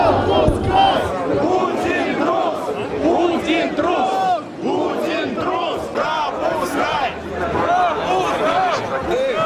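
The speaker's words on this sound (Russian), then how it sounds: "Толпа скандирует «позор, позор», наблюдая кордоны полиции." A large crowd of protesters at the March of Millions on 6 May 2012 chants at police cordons, with loud, continuous massed voices rising and falling in waves close by.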